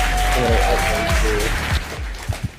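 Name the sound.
applause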